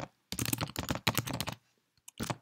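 Quick bursts of keystrokes come from a computer keyboard as code is typed. They are close and crisp, with one brief pause before a final short flurry.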